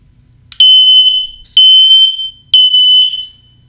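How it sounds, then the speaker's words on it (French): An X-Sense XS01-WX smoke detector sounds its test alarm: three loud, piercing high-pitched beeps of about half a second each, evenly spaced and alone in a quiet room. "Pareil pour le détecteur de fumée, je peux le tester en cliquant ici."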